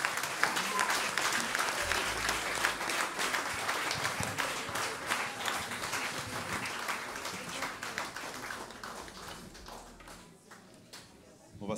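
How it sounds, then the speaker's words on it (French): A church congregation applauding and cheering for the Lord: sustained, lively clapping from a large crowd with voices mixed in, loud and steady at first, then thinning out toward the end. "Est-ce qu'on peut acclamer le Seigneur?"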